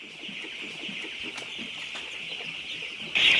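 Chickens on a poultry farm of over 2000 birds cluck and chatter in a steady, close chorus, with a louder burst of calls right at the end.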